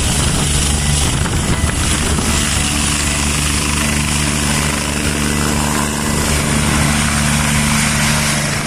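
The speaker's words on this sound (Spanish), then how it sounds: "Ya se ha llevado al lugar el helicóptero con el Bambi Bucket, especializado para apagar incendios" A firefighting helicopter carrying a Bambi Bucket at a forest fire gives a loud, continuous rotor and engine roar that holds steady throughout, with no talk over it.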